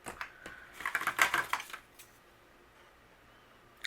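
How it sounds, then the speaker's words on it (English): Scissors snip through paper library card inserts with a few quick, close cutting crunches clustered in the first two seconds, followed by near silence. "I'm going to use my scissors and I'm going to trim these"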